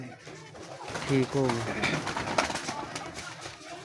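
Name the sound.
pigeons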